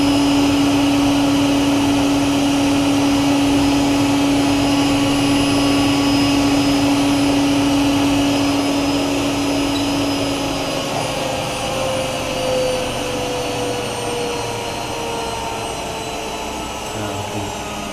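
A Miele W5748 washing machine on a high 1600 RPM spin, giving a loud, steady whine and rumble with a sustained tone that slowly shifts as the drum holds speed, with no talk over it.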